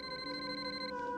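A telephone rings with a steady tonal electronic trill that holds evenly at moderate volume for the whole short stretch, with no voices.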